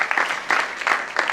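Audience in a church gathering applauding Didier Pilon: a short, moderate burst of clapping from a small group, coming in uneven clusters over about a second.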